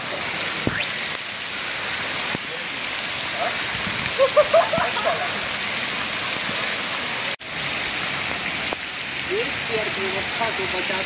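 Steady rain hissing over a wide area, constant and fairly loud, with a few faint bird calls and brief bumps against the patter.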